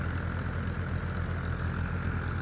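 A Mahindra Yuvo Tech 585 tractor engine idles steadily, a continuous low rumble with a fast regular throb, close and fairly loud, with no talk.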